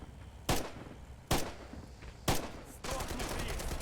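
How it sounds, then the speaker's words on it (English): Machine gun fire in the World War II shooter Red Orchestra 2, three sharp separate shots at steady intervals followed by a continuous rapid burst, loud and close. "I'm right next to a stationary machine gun"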